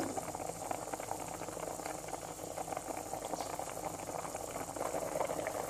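A pot of sugar syrup for rasmalai bubbles at a steady rolling boil, a soft continuous burble close by with no voices.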